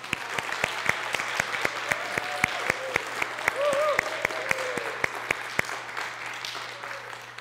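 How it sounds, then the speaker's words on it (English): A church congregation applauds at a Sunday service, steady moderate clapping with sharp individual claps standing out over a low hum, a brief voice rising in the middle. "we'll do several rounds of applause, but here's an appropriate place to do one of them."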